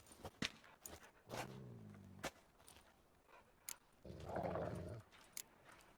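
Two low, rumbling dog growls in The Witcher 3 video game, each lasting about a second, separated by sharp clicks and thumps against a quiet background.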